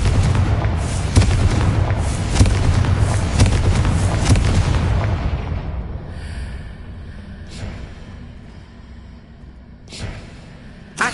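A Confringo blasting spell detonates in a Harry Potter video game as a loud, sustained explosive roar with heavy low rumble that fades over several seconds, followed by a few sharper distant bursts.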